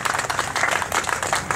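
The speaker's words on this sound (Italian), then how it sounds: "Un applauso a coloratatv.it." Audience clapping at a live Italian talent show event, a steady ripple of hands applauding throughout, moderately loud and even without any talk.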